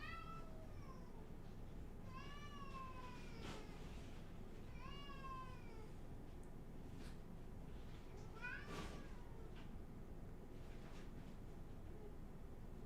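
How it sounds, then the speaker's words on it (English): A cat meows loudly several times, drawn-out rising and falling cries spaced a few seconds apart over a quiet background hiss. "but that cat's loud."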